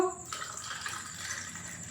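Water is poured into a container while making homemade peach sherbet in a kitchen: a faint, steady splashing hiss that runs for a couple of seconds after a brief start.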